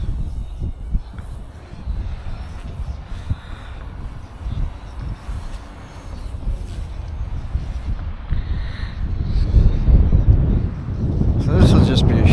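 Heavy wind buffets the microphone during a Goosky S1 drone flight, a steady low rumble with gusty surges that grows louder toward the end.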